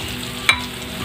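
Fish sizzles and fries in a hot pan for a short moment, with a steady hiss of oil and a small sharp crackle midway, close and alone with no talking.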